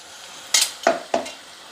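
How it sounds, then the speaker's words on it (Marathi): Water hits a hot pan of sizzling paneer gravy masala in three sharp hissing bursts, each flaring loudly and fading quickly, separated by quieter moments. "मिक्सरच्या भांड्यातलं पाणी मी घालते थोडं"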